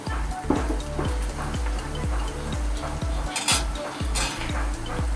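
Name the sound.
onions frying in a wok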